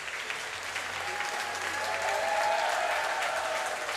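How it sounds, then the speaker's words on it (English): Crowd applauding and cheering at an indoor track cycling race, a steady wash of clapping from many spectators that swells slightly midway, with faint low rumble underneath and no clear talk. "A lot of support here from the Japanese fans in the crowd."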